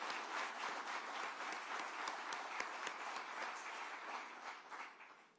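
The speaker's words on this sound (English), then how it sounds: "We can clap for Ms. Johnson." Audience applause at an Atlanta Housing affordable housing update, a steady dense burst of clapping from a crowd that holds for several seconds and then fades out.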